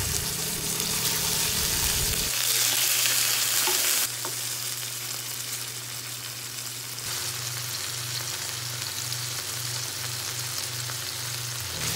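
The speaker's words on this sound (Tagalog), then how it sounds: "Tapos, piprituhin lang natin yung pata." Pork hocks for adobong pata fry in a pan with a steady close sizzle, joined partway through by a low pulsing hum in the background.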